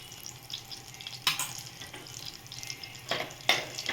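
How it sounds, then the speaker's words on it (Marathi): Butter and oil frying in a wok-style pan, a soft low sizzle with a few louder bursts of spattering or stirring scattered through, close and quiet. "बटर आता छान फ्राय झालं आहे"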